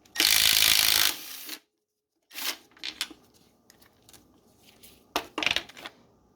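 Bolts and nuts come off an Acura TSX in a series of close, dry metallic clicks and ratcheting turns between quiet gaps, with one longer scraping rattle at the start.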